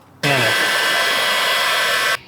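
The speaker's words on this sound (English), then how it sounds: "What are you doing with that heat gun, Brendan?" A heat gun switching on and blowing hot air at a plastic coolant pipe during a Ford Fiesta repair, a loud steady whoosh and whine that holds for about two seconds before cutting off.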